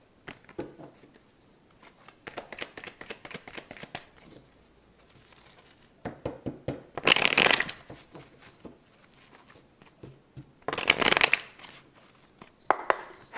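Deck of oracle cards being shuffled and handled, with soft rapid riffling taps and two louder bursts of crisp card flutter, close and otherwise quiet.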